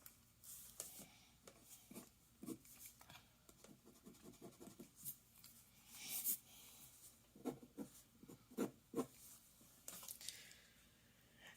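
Pencil sketching on paper while drawing hands, soft scratchy strokes in quick bursts and short runs, some sharper swishes between pauses, close and quiet.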